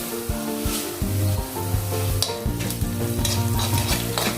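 Sesame seeds crackle and sizzle in hot oil while tempering for alu vadi, giving bright spattering pops over a steady frying hiss, with occasional scraping stirs of the pan.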